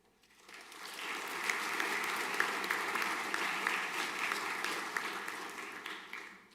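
Sustained applause fills a school senior prizegiving hall, a broad steady wash of many hands clapping that swells in and holds for several seconds before tapering off, with no voices over it.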